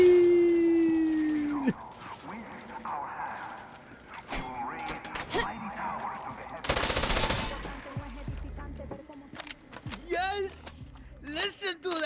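A grenade blast and scattered gunfire in the Far Cry 6 video game, one loud broadband burst partway through amid sporadic shots and clatter, with a person talking and exclaiming over the action.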